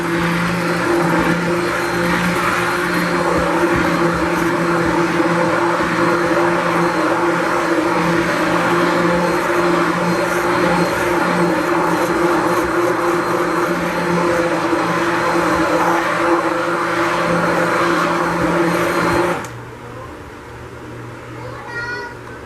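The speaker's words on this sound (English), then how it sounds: "get my blender here" An electric stick blender mixes lavender cold process soap with a loud, steady motor whine and buzz that runs for about twenty seconds, then cuts off, leaving quieter room sound.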